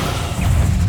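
Descendo spell in Hogwarts Legacy slams a target down with a loud, dense crash and thud, a single heavy impact over a rumbling low body.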